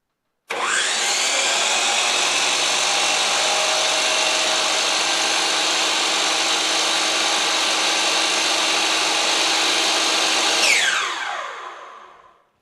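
A Hercules 12-inch sliding compound miter saw motor starts abruptly and runs loud and steady with a high whine for about ten seconds, then its brake stops it, winding down to silence.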